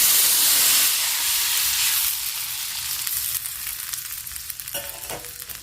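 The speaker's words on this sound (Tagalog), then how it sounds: "Ilagay natin ang pangalawang gata." Coconut milk poured into a pot of santol stew sets off a loud steady sizzle and steamy hiss that gradually settles into a softer bubbling simmer, with no talking.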